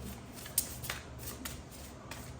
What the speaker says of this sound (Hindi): so I have to shuffle again